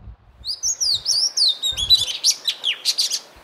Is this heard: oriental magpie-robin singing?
yes